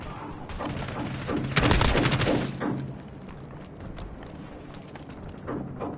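Gunfire in the video game Call of Duty: Warzone: rapid bursts of shots crack loudly, then thin out into scattered, quieter shots toward the end.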